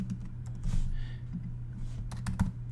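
Keys clatter close by as someone types on a computer keyboard, a steady run of soft clicks with a short faster burst near the end, over a low hum.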